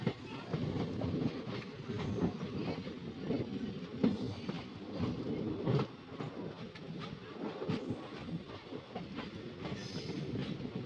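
Passenger train running on rails toward Rameswaram, heard from onboard as a steady rumbling roll with clickety-clack wheel beats throughout, fairly loud and continuous, with no talking.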